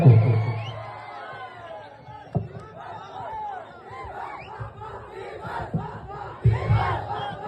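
A big crowd of fans at an outdoor event in Mandya shouts and chants together in loud, ragged bursts with background babble, near and energetic.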